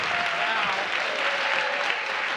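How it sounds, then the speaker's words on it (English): Steady, close applause fills a bar room where a political audience claps together, a dense, even patter with no break from start to end. "let me ask you to clap if you watch at least an hour of any of the"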